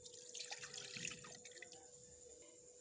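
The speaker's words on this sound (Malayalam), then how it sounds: "നമുക്കത് മിക്സിയിലെ ജാറിലേക്ക് ഒഴിക്കാം കേട്ടോ." Milk being poured into a mixer blender jar for an Oreo shake, a brief splashing, gurgling pour close by and fairly soft, with no talking.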